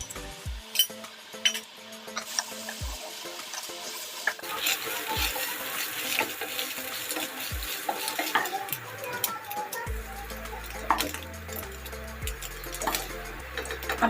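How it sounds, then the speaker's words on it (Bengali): Eggs cracked with salt into hot mustard oil, sizzling and spattering steadily up close while a utensil stirs and clinks against the pan. "ডিম দুটো আবার নুন দিয়ে ফাটিয়ে দিয়ে ভেজে নেব। তেল গরম হয়ে গেছে, ডিমটা দিয়ে দেবো।"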